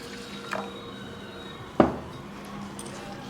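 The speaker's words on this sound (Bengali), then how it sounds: "এবার খুব ভালো করে ধুয়ে নেব।" Lentils (dal) are being washed with water in a pot: a few scattered wet clinks and scrapes, one sharper knock in the middle, over a low kitchen hum.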